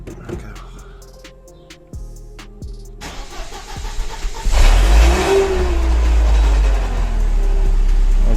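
Mercedes CLK during a clutch and flywheel job, with a small metallic noise from the clutch: a few light ticks come first, then the engine cranks and catches, running loud with a rising rev close by.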